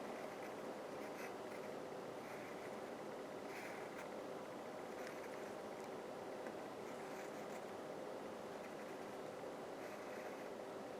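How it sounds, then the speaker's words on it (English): Pencil or pen drawing a figure on paper in a math lesson: a faint, continuous scratchy stroking at low level, steady throughout with soft, intermittent accents. "Now we draw off our figure."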